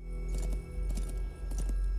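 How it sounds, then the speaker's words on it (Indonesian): Horse hooves clip-clopping in a quick irregular rhythm, moderately close and fairly faint, over a steady low hum. "Tiba-tiba dia mendengar suara derap kaki kuda datang mendekat."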